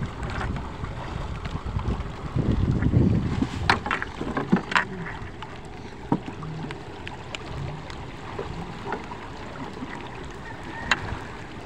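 A small wooden boat moves along a river in a flooded area after heavy rain, with gusty wind buffeting the microphone, water sloshing and scattered knocks throughout, and no talking.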